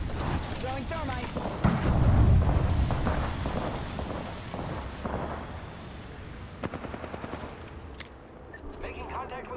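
Thermite grenade thrown in the Apex Legends video game, a dense burst of fiery crackling and booming blasts amid heavy gunfire, loud at first and then tapering into scattered shots and clatter.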